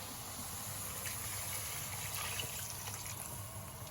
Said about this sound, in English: I have put in 400 ml of water with a stock cube, and I'm going to pop that in there.